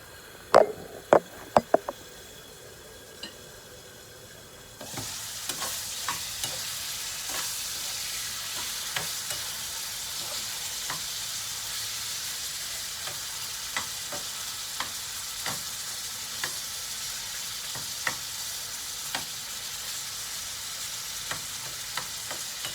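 Pork liver fries in a pan with a steady, close sizzle, punctuated by sharp clicks of stirring and scraping at a slow, uneven pace; a few louder knocks open it before the frying swells louder.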